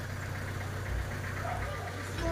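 A delivery motorcycle bringing soft drinks to a small store idles nearby, a low steady engine chug with a faint knocking pulse, and no clear voices on top.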